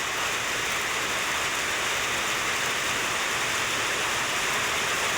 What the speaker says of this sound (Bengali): তুমুল বৃষ্টি, কী বলবো ভাই